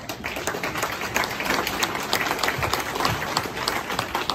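Another round of applause from an audience for a school board member at a political campaign event, a dense, even burst of clapping lasting a few seconds.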